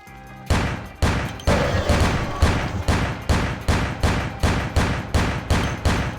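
Gunshots from a weapon in the video game Vampire: The Masquerade - Bloodlines, firing as a loud, steady string of about a dozen sharp, booming reports at an even rhythm of roughly two per second, with no talk.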